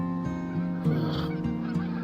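A flock of geese honks in the sky, a steady run of overlapping calls filling the whole stretch at a fairly loud, even level with no talking.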